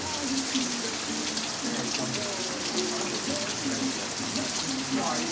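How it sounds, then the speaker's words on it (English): Steady rain pours down at an outdoor car show, a dense continuous hiss of drops on surfaces with low murmuring voices and faint engine or crowd rumble underneath. "You braved the rain."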